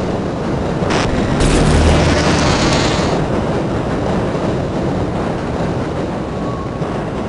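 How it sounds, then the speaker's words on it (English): A train in the Half-Life: Opposing Force video game brakes to a halt at a station platform, a loud steady rumble with a brief hissing burst early on, then settling into a continuous mechanical drone. "The territorial train has come to a complete halt"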